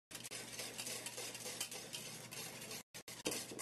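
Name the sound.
whisking instant polenta in a pot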